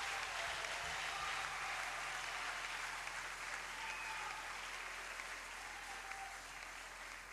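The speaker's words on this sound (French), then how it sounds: "Nous allons encore applaudir pendant qu'elle est en train de rentrer" A church congregation applauds steadily, a dense, even wash of clapping that holds throughout at a moderate distance.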